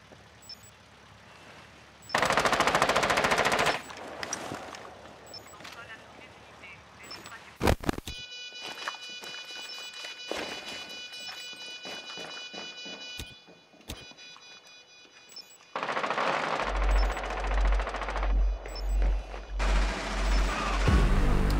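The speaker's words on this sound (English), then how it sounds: "We got shot by bullets." Gunfire in the video game Rainbow Six Siege during a bomb match, with loud bursts of automatic shots and sharp cracks in separate bursts, mixed with game effects, tones and clatter.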